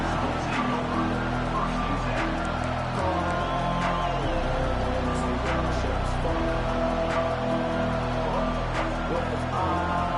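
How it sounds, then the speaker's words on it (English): Steady roar of a stadium crowd in a college football video game, a dense continuous wash with scattered cheers and whoops rising through it, loud and constant for the whole stretch. "this crowd is fired up. Listen to this noise here."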